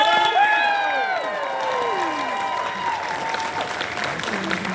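A crowd at the Edinburgh Capital Sci-Fi Con applauds and cheers loudly as panel guests Peter Davison and Janet Fielding arrive, with whoops and shouted voices rising over sustained clapping throughout.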